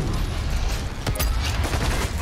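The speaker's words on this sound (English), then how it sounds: "I want to use the rocket launchers on, like, these people." A rocket launcher firing in the game Doom Eternal, heavy rumbling blasts and explosions stacked into a dense, loud wall of noise with no pauses.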